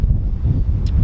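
Gusty wind buffets an outdoor microphone in open fields during a turkey hunt, a loud low rumbling roar that fills the whole moment with no other sounds.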